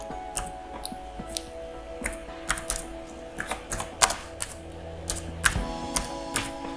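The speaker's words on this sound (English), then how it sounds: "you have to simply type download and use small letter" Keys being typed on a Lenovo Chromebook N22 laptop keyboard, sounding as a run of uneven, clicky taps at close range, sparse at first and then quicker, over a faint steady hum.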